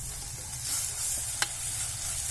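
Crushed ginger, green chili and garlic fry with onions in a pan, giving a low, even sizzle and a single sharp tap of a utensil partway through.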